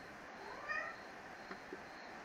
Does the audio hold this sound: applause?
no